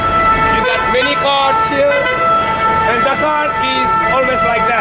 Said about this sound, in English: what you're hearing right now is the ambulance.